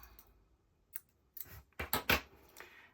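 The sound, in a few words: scissors cutting yarn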